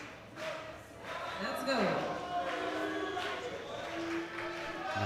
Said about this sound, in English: As you can hear, the Brazilian crowd shouting, this is João Schuler.